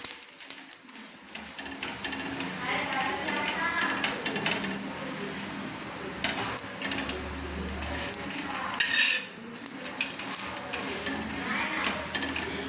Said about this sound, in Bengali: এবার আমি একে তেল দিয়ে ভেজে নিচ্ছি